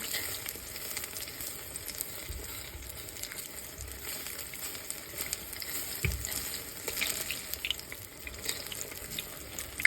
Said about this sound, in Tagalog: kailangan mainit na talaga yung mantika bago nyo ihulog yung maruya